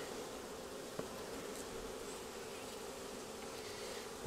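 Honeybees buzzing from an open hive in October, a dense, steady, continuous hum of many insects close by, faint overall and with no voices.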